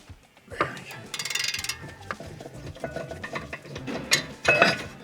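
Ratchet and tools working loose the two 15 mm brake carrier bolts on a cheap Jaguar, with irregular clicking, metallic clanks and scraping close by during a DIY brake job.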